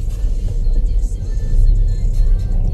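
A car pulls away from a standstill, its engine rising in a steady whir over road rumble, close and fairly loud, with no talking.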